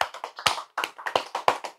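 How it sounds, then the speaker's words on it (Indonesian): A single person clapping hands rapidly, close and crisp, with irregular bursts of sharp claps and a brief pause partway through. "Tepuk tangan."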